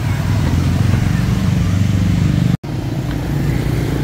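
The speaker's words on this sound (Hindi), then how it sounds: "बाइकें ही बाइकें चल रही हैं ना, बहुत ज़्यादा बाइक है" Dense motorbike and car traffic streams through a busy night intersection in Hanoi's Old Quarter, a constant close engine drone that cuts out for a split second before resuming.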